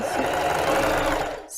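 A domestic sewing machine backstitches on cotton fabric for a plus-size panty, a loud, close, continuous whir of rapid stitching that cuts off abruptly.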